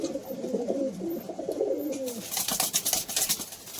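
Madras and Giribaz pigeons at a Kolkata sale coo close by in a burbling, throaty run that fades after about two seconds, followed by rustling and flapping noises.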